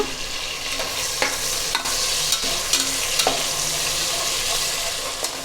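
Chopped tomatoes frying in a pan for gongura chicken pulao give a steady, close sizzle, with a few sharp spatula scrapes and stirs breaking through the hiss.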